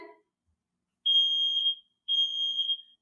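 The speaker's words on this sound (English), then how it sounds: "Somebody hit the buzzer." Two long, shrill alarm buzzes, each lasting under a second, separated by a brief silence; clear and fairly close.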